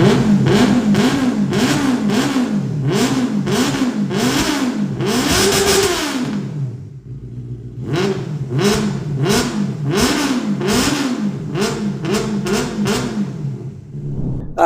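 A Benelli TNT 600i motorcycle revs loudly and close by, with repeated rising and falling throttle blips, a brief lull, then another burst of revving.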